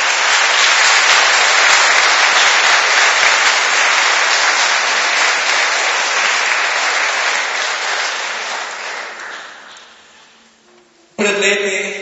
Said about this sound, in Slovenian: Dajmo Jezusu in čudovit aplavz za vse naše zmage po molitvi